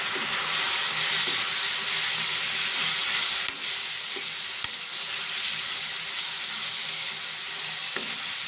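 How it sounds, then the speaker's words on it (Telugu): Dried shrimp fry in a pan with garlic, cumin and onions, giving a loud, steady, close sizzle that runs unbroken throughout, with a few faint clicks beneath it. "దీంట్లో ఎండ్రాయిలను వెల్లుల్లిపాయ జీలకర్ర కచ్చపిచ్చక చేసామండి ఇది కూడా బాగా ఫ్రై అవ్వాలండి"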